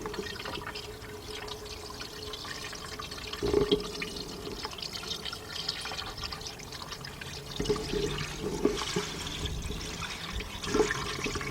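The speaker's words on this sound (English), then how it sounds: "let's pour our antifreeze in" Antifreeze pouring from a gallon jug into the engine of a 1999 Dodge Dakota Sport with a 3.9 engine during an engine replacement; a steady liquid gush and trickle runs throughout at moderate level, with a few louder glugs and splashes.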